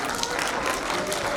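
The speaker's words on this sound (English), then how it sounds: "Give them a big round of applause, please." Audience applause at a school family jamboree for Grade VII, heard as a dense, steady wash of many hands clapping throughout, fairly loud and close, with no break.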